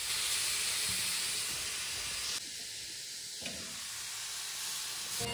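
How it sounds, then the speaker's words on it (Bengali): Carrots frying gently in hot ghee with bay leaf give a steady, close sizzling hiss, briefly softening midway before returning at full strength. "আর এখন কাজ হচ্ছে গাজরগুলোকে ধীরে ধীরে একটু ভেজে ভেজে নেওয়া"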